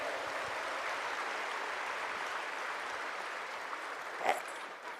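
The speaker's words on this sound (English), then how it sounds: "big round of applause to all the audience who are present here" Audience applause at a spirituality festival event, a steady wash of distant clapping from a large crowd, fairly faint and even throughout, with a brief louder knock near the end.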